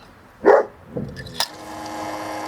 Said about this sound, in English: aha, and it's pumping out.